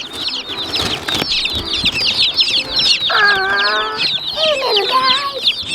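Dense, rapid high chirps of baby chicks fill the whole stretch, with a few louder clucks from grown chickens breaking in near the middle and end.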